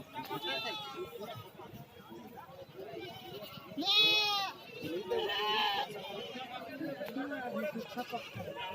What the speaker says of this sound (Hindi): ये सामने में है देसी बकरा